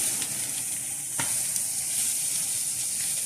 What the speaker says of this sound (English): I'm going to cook this until the onions get a little bit caramelized